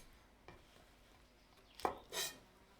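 Knife slicing drained mushrooms into thin strips for a Thai chicken and shrimp salad, with a faint tap early on and then two short, close cuts against a board in a quiet kitchen.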